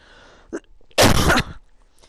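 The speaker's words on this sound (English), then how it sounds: "And I need to cough, I'm sorry." A speaker at a lecture gives a single sharp cough that bursts out loudly after a short pause, preceded by a faint breath and followed by quiet.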